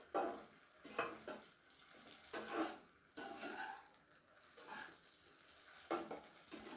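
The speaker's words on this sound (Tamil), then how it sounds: "இதை நல்லா ஷாலோ ஃப்ரை பண்ணிக்கலாம்." Leftover idli pieces shallow frying in oil in a pan, giving a soft continuous sizzle with recurring scrapes and clinks of a utensil stirring and turning them, close and moderately quiet, with no voices.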